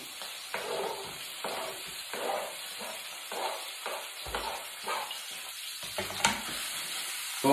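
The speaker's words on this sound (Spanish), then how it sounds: "Vamos a rehogarlo aquí, a sofreírlo 3 minutitos." Chopped liver, onion and bell pepper sizzle steadily in a frying pan, with a continuous close hiss broken by repeated scraping stirs and a few sharper clinks.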